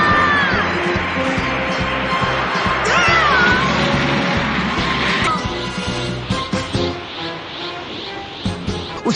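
A cartoon character's powerful scream rises loud and shrill over a busy, rumbling soundtrack, then breaks off into scattered impacts and thuds as the noise settles.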